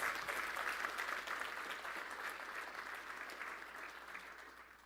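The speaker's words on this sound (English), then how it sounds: "we deserve a freaking round of applause" An audience at a defense industry outlook event breaks into a loud, sustained round of applause, dense steady clapping that gradually eases off, with no talk over it.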